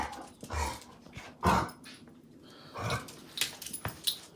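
A dog that had been struggling to walk the night before plays with another dog, giving short gruff barks and growls in scattered bursts at close range, with quieter rustling between them.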